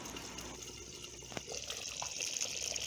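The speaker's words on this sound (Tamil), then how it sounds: "இப்போ கொஞ்சம் தண்ணி சேர்த்துக்கலாம்." Water is poured into a simmering fish curry masala in a home kitchen, a soft, faint splashing and gushing that grows slightly stronger midway, heard alone.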